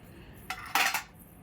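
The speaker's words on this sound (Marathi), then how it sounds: "मस्तपैकी देवाची भांडी घासून घेतली मी आता उचलून घेते" Washed metal puja utensils are picked up with a short clatter of two clinks against each other, close and brief, with quiet around them.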